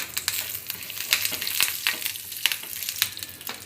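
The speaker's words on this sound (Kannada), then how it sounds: "ಸ್ಟವ್ ಆನ್ ಮಾಡಿಕೊಂಡು ಸ್ವಲ್ಪ ಎಣ್ಣೆ ಹಾಕ್ಕೊಳ್ತಾ ಇದ್ದೀನಿ ಸ್ವಲ್ಪ ಸಾಸಿವೆ ಕರಿಬೇವಿನ ಸೊಪ್ಪು" Mustard seeds and curry leaves frying in hot oil on a stove, a steady sizzle with sharp crackling pops scattered throughout, close and fairly loud, no talking.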